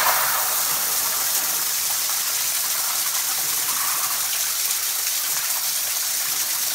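Water pouring steadily into a basement sump pit to test the sump pump, a loud, continuous close-up gushing splash that holds unchanged throughout with no talking.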